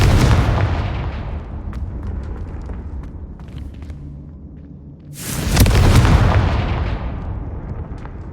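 Confringo blasting spell explosion in the video game Hogwarts Legacy: a loud rumbling blast that fades, then a second powerful boom swelling up and holding, with no speech.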